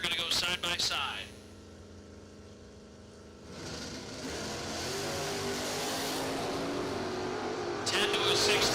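A Dodge Coronet and a Dodge Challenger drag race side by side at a drag strip, engines revving hard and roaring down the track at a distance, with crowd noise and a brief burst of voices at the start and end.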